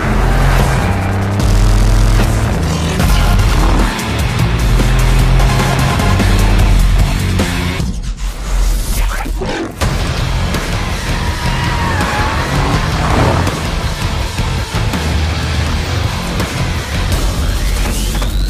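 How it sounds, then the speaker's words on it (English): A Mercedes-Benz AMG 63S Coupe roars loudly with sustained engine noise and tire squeal through most of the stretch, dropping briefly in the middle before revving and skidding resume, with music-like tonal layers mixed in. "The Mercedes-Benz AMG 63S Coupe."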